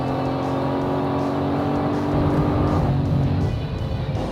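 A V8 sports car laps the Willow Springs race track, its engine a loud, close, sustained drone that climbs and then drops in pitch near the end.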